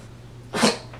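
A single short sneeze bursts out near the middle, sharp and breathy, against quiet room hum.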